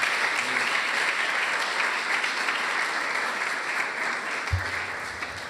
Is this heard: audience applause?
yes